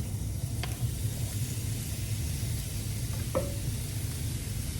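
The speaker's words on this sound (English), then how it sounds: "You're gonna put the remaining onion and your chopped eggplant in there." Remaining onion and chopped eggplant hit a little hot oil in a pan, giving a steady, even sizzle with a couple of faint light clicks and no voices.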